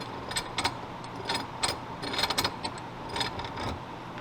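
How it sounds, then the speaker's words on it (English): A bench vise being closed on a part during a CX Racing turbo kit install on an Acura RSX, giving a series of light ratcheting, clicking mechanical sounds in short bursts, fairly close and moderately quiet, with no talk. "Dawn, please close the vise for me."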